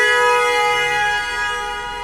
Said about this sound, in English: Is that a strategic honk?